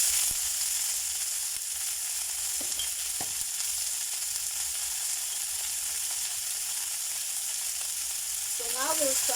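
Marinated chicken pieces for butter chicken fry in a pan with a steady, continuous sizzle and crackle, close and even throughout, with a brief stir or scrape near the end.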